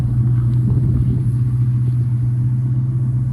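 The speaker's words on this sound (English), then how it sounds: "having a V8 manual Mustang has been an absolute blast" A V8 Ford Mustang with a manual gearbox idles up close, a loud, steady low engine rumble with no speech.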